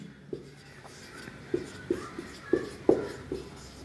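Marker or chalk strokes on a board during a biology lecture: a run of short scratchy strokes and light taps that build in force and come irregularly, close and fairly quiet, with no one talking.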